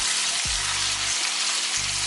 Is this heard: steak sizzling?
yes